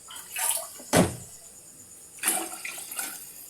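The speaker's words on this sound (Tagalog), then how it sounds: "Lagyan na natin ng tubig para lumambot yung karne natin." Water poured into a pot of meat for papaitan in a home kitchen, with two splashing gushes and a sharp knock between them.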